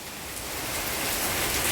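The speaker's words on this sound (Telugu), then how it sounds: "పెద్ద వర్షం." Heavy rain pours down in a steady, dense roar of drops on surfaces, loud and unbroken for a short stretch, with no voices.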